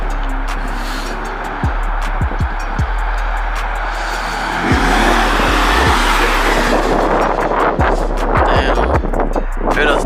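A Chevy Sport fitted with a Y-pipe exhaust idles with a low rumble and revs repeatedly, throwing out sharp pops and crackles between throttle blips, loud and close with no talking.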